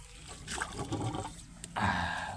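Water runs from a tap and splashes steadily, stops briefly, then gushes again louder near the end, close by.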